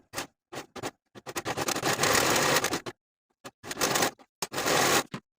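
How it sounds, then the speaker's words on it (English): A serger overlocks the fabric edges of skort pieces in bursts of busy mechanical whirring, a quick stitch run, a long steady pass, then short starts and stops with silent pauses between. "I'm also going to serge around the entire piece for both pieces"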